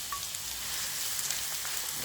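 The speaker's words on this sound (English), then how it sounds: "I fry it a bit, about, let me say, 1 to 2 minutes." Chopped onion and spring onion fry in vegetable oil in a pan for Nigerian jollof rice, giving a soft, even sizzle with faint crackles and no talking.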